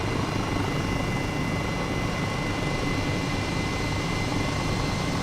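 H135 helicopter in Microsoft Flight Simulator, a steady broadband rotor and turbine roar that holds at an even, loud level throughout with no talk over it.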